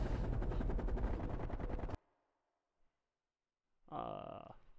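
Rapid automatic gunfire in the shooter game Call of Duty Black Ops Cold War, a loud dense burst of shots that cuts off abruptly, a short silence, then another brief loud blast.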